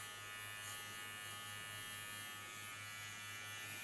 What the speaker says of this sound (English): With a small Kiona clipper, I clean the contour line.